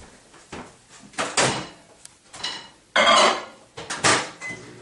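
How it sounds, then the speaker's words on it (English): In a home kitchen, a bowl of butter is set into a microwave and the door shut, heard as a few separate clunks and knocks of dish and door, with a louder thud near the end and quiet gaps between. "And you put it in the microwave to melt."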